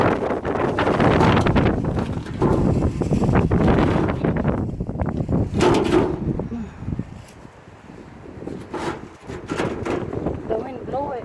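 Strong wind buffets a potted plant outdoors in very windy weather, with loud gusty rumble and rustling that swells and eases throughout, while a person talks over it.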